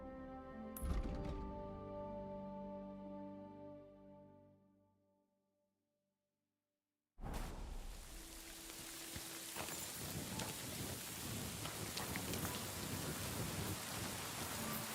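Rain in the video game Kingdom Come Deliverance 2: a tonal sound fades to silence, then a heavy rain hiss bursts in and continues steadily with a low rumble like thunder underneath.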